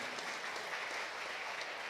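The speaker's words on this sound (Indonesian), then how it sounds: "tepuk tangan juga untuk Pak Wamen," Audience applauding the Deputy Minister of Transmigration at a ministry event, a steady dense wash of clapping from a large crowd throughout, moderately distant, with no voices on top.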